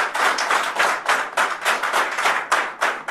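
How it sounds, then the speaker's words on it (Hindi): An audience at a seminar claps for a speaker, dense close hand claps arriving in rhythmic rolling bursts, loud and steady throughout, no talking. "मैं चाहूंगा सर के लिए एक बार जोरदार तालियां"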